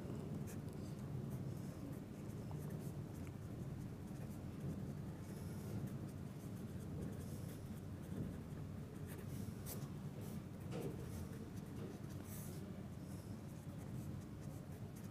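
Pen writing on paper while working a maths problem: a steady, soft scratching that runs continuously under a dense background hiss, close and faint, with no speech.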